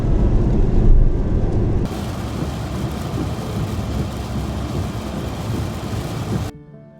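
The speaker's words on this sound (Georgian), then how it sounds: "აი ესე წვიმს მთელი გზა." Heavy rain drums on a car at night on a long highway drive, a dense, loud, steady roar of downpour with deep rumbling, continuous throughout before dropping away abruptly at the very end, with no talking.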